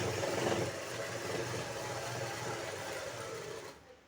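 An electric sewing machine stitching a fall onto a saree, a steady fast mechanical whirring hum that runs evenly at close range and stops abruptly near the end, with no talking.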